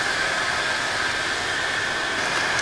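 A blacksmith's forge roars steadily while a metal piece heats toward welding temperature for a horn candle holder, a loud, even broadband rush with a faint whine running through it, unbroken and without talk.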